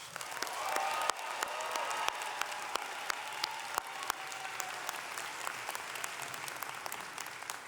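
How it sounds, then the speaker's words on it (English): A large audience applauds at a college arts and sciences commencement ceremony in an arena, steady sustained clapping at moderate distance lasting the whole stretch, with no talking over it. "Let's give them a round of applause."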